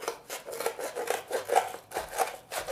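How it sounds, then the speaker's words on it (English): Scissors cutting paper to make indoor bowling pins, a series of repeated crisp snips and rustles in a steady rhythm, close and moderately loud. "So you take your scissors, be super careful with them."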